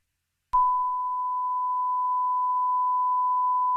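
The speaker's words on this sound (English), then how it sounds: "It's a lot of beeping." A dispatch radio recording gives one sharp click, then a steady, loud, unbroken beep tone that holds for several seconds, with no voices.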